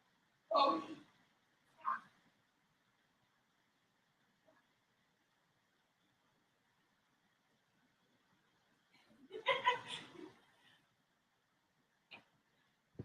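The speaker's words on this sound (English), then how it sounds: "Time out to get the dog to stop barking at I have no idea what, nothing." A pet dog named Chloe barks indoors, one sharp burst near the start, another a second later, then a longer cluster of barks around the ten-second mark and a final short yelp, with quiet gaps between.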